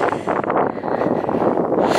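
Steady wind buffets the microphone on an open field walk beside the River Parrett near West Huntspill in Somerset, a continuous broadband roar with no voices.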